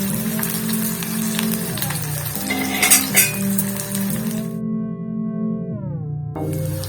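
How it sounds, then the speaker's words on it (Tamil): Onions sautéing in a pan with garlic, a green chili and crushed ginger for tomato thokku: a continuous close sizzle with occasional light metallic clinks of a utensil, briefly dropping out near the end. "வெங்காயம் கொஞ்சம் வதங்கிருச்சு"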